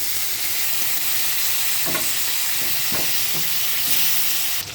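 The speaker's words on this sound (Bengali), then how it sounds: "দিয়ে মাছগুলো ফ্রাই করে নেব।" Fish fries in hot oil in a wok with a loud, steady sizzle, broken by a few soft stirring scrapes and knocks, heard close and alone.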